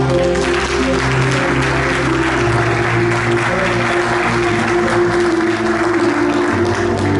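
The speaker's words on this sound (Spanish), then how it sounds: "Denle un aplauso al Señor." A church congregation claps loudly and steadily for several seconds during a service, sustained applause filling the room under a low musical drone.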